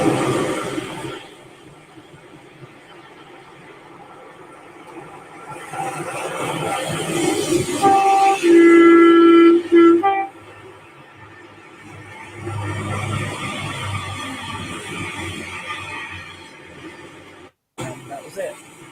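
Recorded horn blast from a tram, replayed through a speaker: a loud, steady two-tone honk lasting about two seconds, surrounded by someone talking and muffled background noise.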